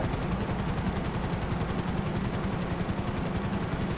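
Helicopter flying in Grand Theft Auto, a loud, close, rapid rotor chop that beats steadily and evenly throughout with no talk.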